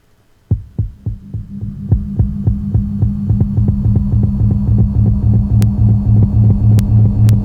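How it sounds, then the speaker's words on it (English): A looping heartbeat sound effect with a steady, loud, deep double thump over a constant low hum, running alone without talk throughout. "the heartbeat is kind of creepy"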